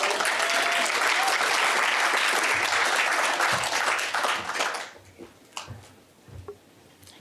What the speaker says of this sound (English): I told y'all to stop the clapping.